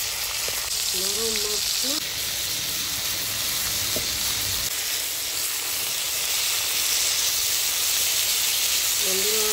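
Pomfret fish frying in a pan gives off a loud, steady sizzle and hiss that fills the whole stretch, close up, with a person talking briefly over it.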